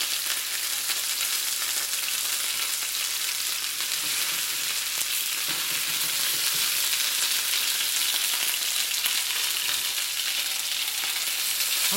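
Chicken wings fry and brown in a pan for lemongrass chicken wings, a dense, steady, close sizzle that runs unbroken throughout with no talk.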